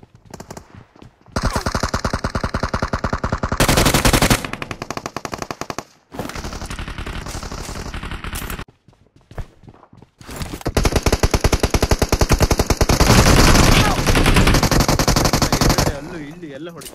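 Rapid automatic gunfire in a mobile shooter game played on an iPad Air M2, long loud machine-gun bursts separated by brief pauses, with players talking in the background.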